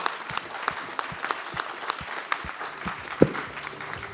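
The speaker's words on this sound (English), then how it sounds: "I want, again, a clap and applaud for everybody" Conference audience applauding at the end of a plenary session of a company's annual meeting, with scattered individual claps standing out from a moderate crowd and one sharp louder clap near the end.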